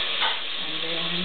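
Kimchi jjigae sizzles in a pot while being stirred, a close, steady frying hiss with a faint scrape of the stir near the start.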